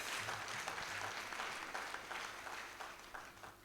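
A crowd at a church gathering in Gagnoa cheers and applauds in acclaim, a steady dense wash of clapping and voices that holds loud for the whole stretch and eases slightly toward the end.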